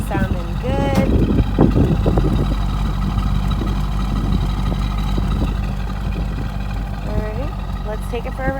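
A 2000 Chevrolet Corvette idles with a steady low burble through its rear exhaust pipes, heard close and even under a voice at the start and end.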